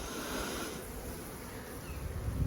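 Bees buzzing during an apiary hive inspection, a dense, continuous droning hum from many insects close by, steady in loudness with no voices.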